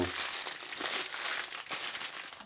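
Plastic packaging from a DJI Mini 4 Pro drone kit crinkles continuously and close by as a bag is handled, a crisp rustle heard on its own.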